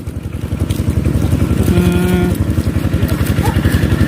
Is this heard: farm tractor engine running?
yes